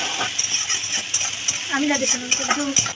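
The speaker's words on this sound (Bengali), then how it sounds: "এবার পেঁয়াজটা দিয়ে দিলাম কড়াইতে।" Onions sizzle in a kadai after potatoes were fried with salt and turmeric, a close steady hiss with light stirring clicks and a brief murmuring voice partway through.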